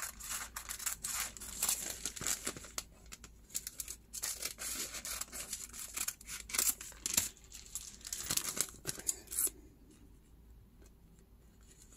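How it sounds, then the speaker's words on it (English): Scissors fussy cutting paper and acetate pieces, a series of close, quiet snips and crisp rustles in irregular rhythm, with the sheets crinkling as they are handled. "I'm gonna fussy cut out, of course, cut it out from that back"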